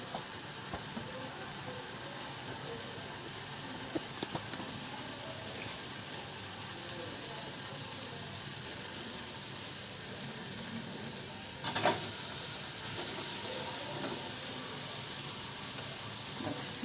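Paneer pieces being stirred into fried masala in a kadhai give a low, steady sizzle. Soft stirring scrapes come through now and then, with one brief sharper clatter partway through.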